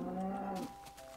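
A single Minecraft cow lets out a short, low moo with a clear tonal drone, ending abruptly into quiet background within about a second.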